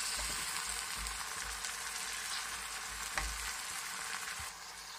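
Tomatoes being stirred in a hot pan for an eggplant curry, a soft steady sizzle with low scraping and occasional bumps of the spoon, close but fairly quiet, easing off slightly at the end with no speech.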